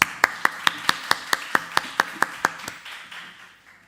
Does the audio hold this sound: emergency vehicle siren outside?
no